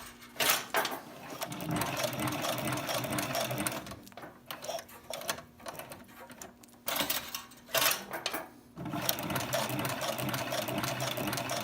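A SEWPRO 441-PRO sewing machine stitches tough Biothane, running in loud continuous bursts of rapid needle strokes with short pauses between, close up and without talk.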